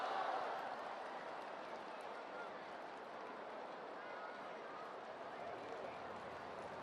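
A stadium crowd at an athletics meet in Beijing applauds a triple jump, a steady, fairly faint wash of clapping and crowd noise that stays even from start to finish.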